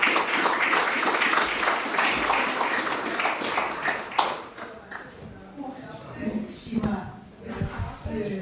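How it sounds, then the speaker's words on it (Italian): Audience applause after a history lecture on the ancient Veneti, steady for about four seconds before fading into scattered claps under conversation. "Ti ringraziamo con un applauso ancora al nostro relatore Gioia Canestrelli."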